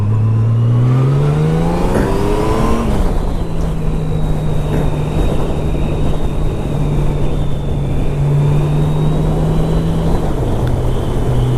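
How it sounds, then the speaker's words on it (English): Steady, loud wind rush dominates while riding a 2014 Honda Valkyrie motorcycle on the highway, with a low engine drone beneath that rises briefly as the bike accelerates and then holds steady. "Like, you don't even hear the bike. You just hear the wind."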